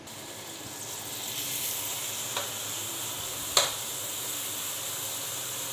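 A large onion fries in a pan with an even, hissing sizzle that holds steady throughout, broken by a couple of brief sharp ticks, close and without speech.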